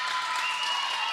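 Crowd cheering and applauding at a girls' volleyball game in a church gym, with the CLA bench getting pumped for their team; a steady, dense wash of clapping and cheers with no clear break.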